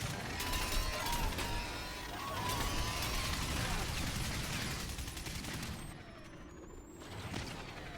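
Shotgun blasts in the video game Crysis, fired at aliens: loud, dense bursts of gunfire with clattering mechanical sounds, continuous through most of the stretch and easing off near the end.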